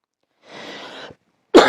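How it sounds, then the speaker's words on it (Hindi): A teacher coughs after a long recording session, a soft breathy cough followed by a sharper, louder cough close to the microphone, with no talk. "काफ़ी देर से वीडियो रिकॉर्ड हो रहा है तो इस वजह से खांसी आ रही है।"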